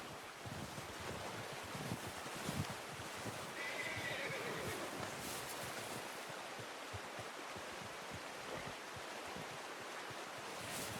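A horse in Red Dead Redemption 2 neighs once, a brief whinny partway through that sits under a constant rush of wind and surf-like ambience, fairly faint overall, with no talk.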